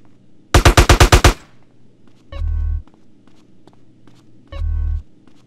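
Gunfire in Grand Theft Auto: San Andreas: a rapid burst of about seven loud shots, then two separate low rumbling bursts with faint clicks in between.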